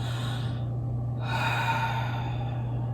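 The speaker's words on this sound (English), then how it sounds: "Deeper inhale." A single slow, deep inhale through the nose during a yoga breathing exercise for stress release, close and clear over a steady low hum, with no talking.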